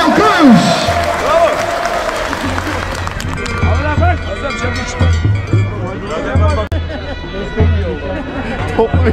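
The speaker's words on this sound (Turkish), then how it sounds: "Sizler için buraya toplanan bu pehlivanlara, bu organizasyona bugün de bir alkış yapalım lütfen, bir alkış!" A large outdoor crowd claps at a camel wrestling festival in Tire, Turkey. The applause is loud and sustained, with an announcer's voice, crowd chatter and a low steady drone from a speaker or engine running underneath.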